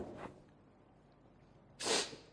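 Two brief bursts, a softer one early and a louder, sharper one near the end, from a person sneezing close by during an online physics class; no speech.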